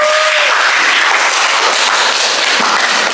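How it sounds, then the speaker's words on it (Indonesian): A classroom full of people applauds steadily, dense clapping filling the whole stretch without a break, with no one speaking over it. "berikan tepuk tangan untuk kelompok 1"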